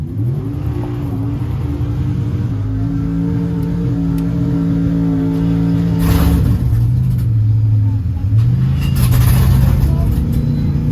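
A pickup truck engine idles loud and close after an intake repair, then rises and falls in pitch as it revs, with a steady drone underneath the whole time.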